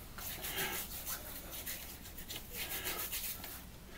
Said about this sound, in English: It doesn't take much of this Catie's Bubbles to get a great lather.